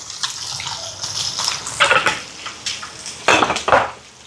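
A spoon stirs sautéed onions, dried fish and spice powder in a cooking pan, producing close, uneven metallic scraping and clattering strokes that grow louder toward the end.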